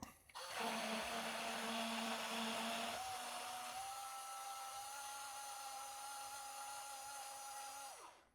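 A blender whirring steadily while mixing a shake with bananas, a loud motor whine that shifts pitch partway through as the contents settle, then cuts off at the end.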